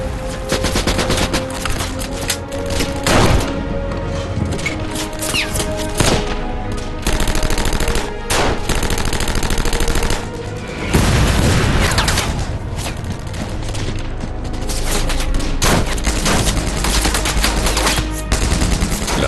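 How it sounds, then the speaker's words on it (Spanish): Castle defenders trade fire with attacking Waffen-SS troops, a loud, dense fusillade of rifle and machine-gun bursts crackling almost without pause, with occasional heavier booms. "Los defensores del castillo devuelven los disparos"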